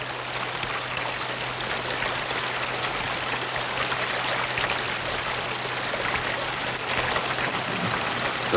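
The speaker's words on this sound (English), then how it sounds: "The forest floor can usually absorb rain as it falls" Steady rain falls through a tropical rain forest, a dense even hiss of drops on leaves holding at the same level throughout, with no voices.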